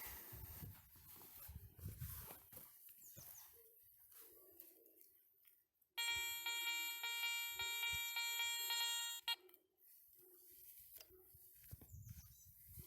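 A Garrett 400i metal detector passes over a lead seal buried 15 cm in soil and gives a loud, steady electronic tone of about three seconds, with faint scraping and outdoor noise before and after it.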